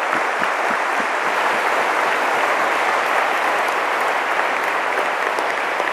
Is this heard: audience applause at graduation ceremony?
yes